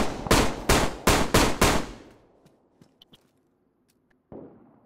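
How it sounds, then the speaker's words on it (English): Six rapid gunshots fired inside a building in the video game DayZ, loud and close in an even burst, followed by faint clicks and a single softer thud. "Was that you just shooting inside?"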